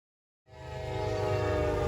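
A Providence and Worcester diesel locomotive on a frozen day sounds its horn as it approaches: after silence, a loud sustained chord swells in and holds steady with engine rumble beneath.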